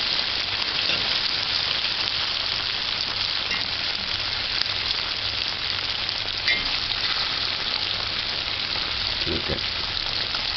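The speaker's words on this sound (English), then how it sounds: "Just allow it to fry for about 30 seconds to a minute." Curried conch meat fries in a pan with a dense, steady sizzle and crackle that holds evenly from start to finish, close and moderately loud.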